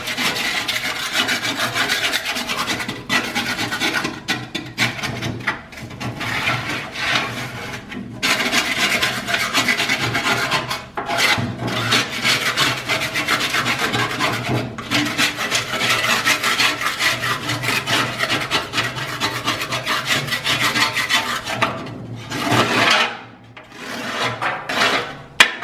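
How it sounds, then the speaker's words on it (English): A metal scraper rasps continuously over the grates of a pellet smoker, knocking off built-up chunks in rough, loud, repeated strokes with brief breaks, close to the listener. "I'll just take a scraper real quick, kind of run over some of the bigger chunks"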